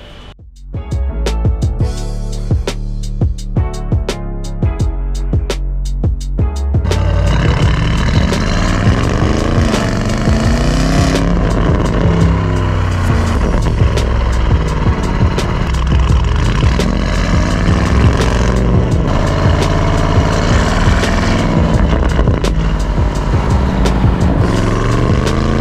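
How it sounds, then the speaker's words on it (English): A Porsche Cayenne Turbo with a very loud aftermarket exhaust fires off a run of sharp throttle blips, then holds a long, roaring rev that rises and falls close by. "this exhaust is pretty badass. It's really, really loud now."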